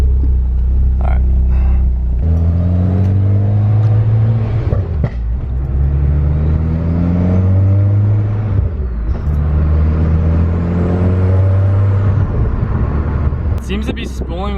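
A big-turbo MK6 car accelerates through the gears, its engine note rising in long sweeps with a faint high turbo whine building slowly over loud cabin rumble, with talk over it.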